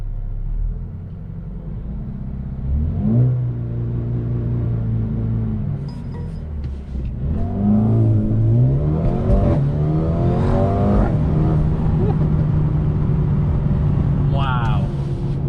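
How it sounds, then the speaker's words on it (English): A 2021 Mercedes-Benz A35 AMG accelerating hard with traction control switched off, its engine note rising through the revs and shifting gears in a loud, steady rumble that stays close throughout. "Let's go ahead and turn off the traction control."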